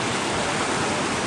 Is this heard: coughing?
no